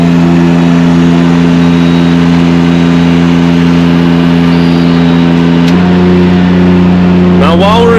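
Diesel engine of a Palazzani Spimerica TSJ-82 spider lift running steadily while raising its outriggers, a loud constant drone that shifts pitch slightly near the end, with brief mechanical whines after.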